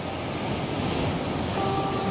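Slightly choppy sea at Tarnate Beach in Cavite, a continuous broadband wash of surf with wind buffeting the microphone, steady and unbroken with no talk.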